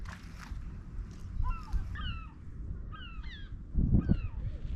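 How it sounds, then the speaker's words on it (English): Birds call on a beach near an ancient castle at sundown, a series of harsh cawing, gull-like cries in short bursts over a low background rumble of wind and surf. "The birds are singing,"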